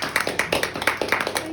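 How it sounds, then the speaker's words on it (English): A small audience applauding a speaker at a talk, a sparse run of quick, sharp hand claps in uneven rhythm, close and moderately loud. "Should we give Rebecca a round of applause?"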